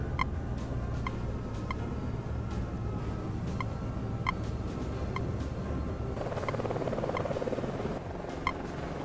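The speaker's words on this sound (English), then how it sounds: "The fools just gave me a helicopter." Helicopter flying in the combat flight video game Nuclear Option: a steady, droning engine with rotor hum and a constant noise bed, plus faint repeating high ticks throughout, no talking.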